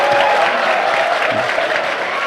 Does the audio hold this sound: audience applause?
yes